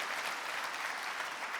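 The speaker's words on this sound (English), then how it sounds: "Another round of applause, please, for John Cooper Clarke." An audience at a literature festival conversation event claps steadily in a dense, sustained wash of applause, fairly close and even in volume throughout.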